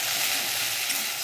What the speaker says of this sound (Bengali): ঢ্যাঁড়সটা ভেজে নিয়েছি আমি, হালকা ভাজা হয়ে গেছে